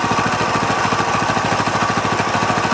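A Coleman BT200X mini bike engine with a vibration dampener runs loud and close, a fast, even thumping chug with a steady rhythm throughout.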